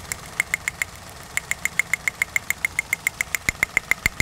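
A Perodua Kelisa engine idles with a rough, uneven beat, a steady run of sharp ticking knocks broken by irregular gaps and stumbles from a misfire, heard close and alone with no talk.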